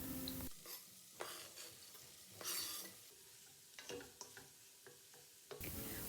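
Green onions and celery cook in four tablespoons of melted butter in a soup pot. A soft sizzle sits under intermittent spoon scrapes and stirring knocks, with a louder burst at the start and end.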